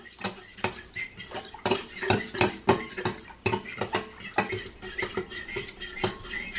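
Flour is stirred into broth in a baking dish with a utensil, making a run of irregular clinks, taps and wet scraping strokes, fairly close and without speech.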